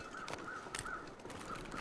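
Crows cawing in The Long Dark video game, several harsh calls repeating at a steady pace over a quiet wilderness ambience, moderately distant and faint.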